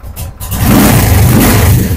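A secondhand Royal Enfield Thunderbird 500 motorcycle with alloy wheels revs at close range in a used-bike showroom in Kolkata. A deep, loud engine rumble swells after a brief quieter start and holds steady.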